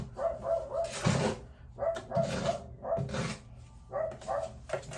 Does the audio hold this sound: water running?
no